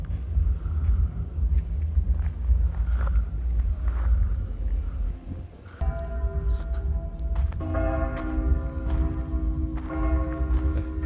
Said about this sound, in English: That's a church bell coming from the way and then from this way.